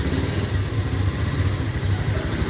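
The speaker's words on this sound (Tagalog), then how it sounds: "andar na po ang Beat FI. Andar na siya." A Honda Beat FI scooter engine idles steadily after an ECU repair, a low continuous throbbing hum, close and even with no revving, running alone without talk.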